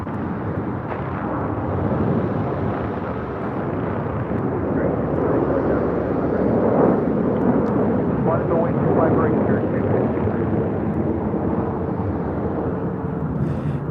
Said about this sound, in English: This is American Airlines 1292 taking off to Nashville on a 737-800.